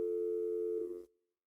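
A telephone busy signal on a call that will not go through, heard as a steady, loud tone that runs for about a second and then cuts off, leaving silence, with no talking.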